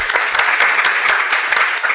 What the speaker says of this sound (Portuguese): Palmas para os nossos.